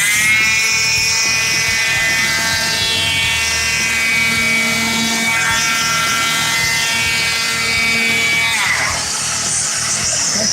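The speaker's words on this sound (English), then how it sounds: "Turn the vacuum on." A loud, steady high-pitched motor whine with a whirring, tonal drone runs continuously, shifting pitch slightly near the end.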